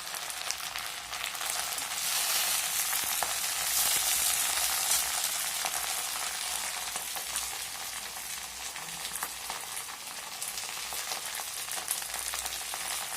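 Greens sautéing in hot sesame oil in a pan, a steady dense sizzle and crackle that runs throughout, with occasional stirring scrapes.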